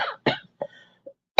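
Several harsh, chesty coughs from a person with bronchitis come in a short irregular burst, close and loud, with brief pauses and a final sharp cough.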